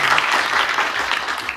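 A crowd claps steadily for the whole stretch, dense and continuous, with no gaps between the claps.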